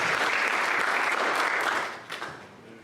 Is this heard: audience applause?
yes